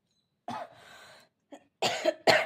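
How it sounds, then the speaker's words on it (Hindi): A woman vlogging at home coughs in several close, abrupt bursts, with a raspy breathy exhale and short gaps between them, ending in two strong harsh coughs. "देखिए खांसी हो रहा है"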